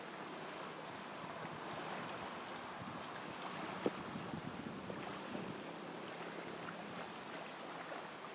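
Big rolling ocean waves in a game with baby giant monsters and plesiosaurs in a volcanic crater, a steady faint wash of surf and wind with one small sharp knock midway, no talk.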